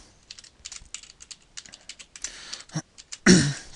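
Quick bursts of computer keyboard clicks as a password is typed into a Windows Server 2008 user account form, close and clear, ending in a louder thump or throat clearing.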